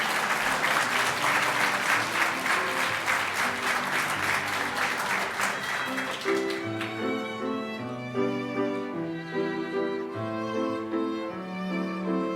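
A crowd claps at a law school commencement ceremony, full, sustained applause for about six seconds before it fades under a swelling, held musical passage.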